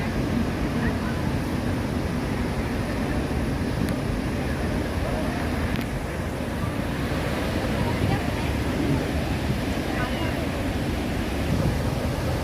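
Athirappilly waterfall pouring down in a steady, loud roar that fills the whole stretch, with a continuous broadband rush and spray and no clear pauses.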